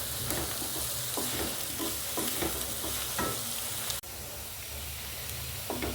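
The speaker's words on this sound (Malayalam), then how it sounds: "സവാള നന്നായി മൂത്തിട്ടുണ്ട്." Sliced onions sautéing in a pan for a lentil curry, a steady close sizzle and frying crackle with repeated stirring scrapes, continuous and fairly loud with no talk.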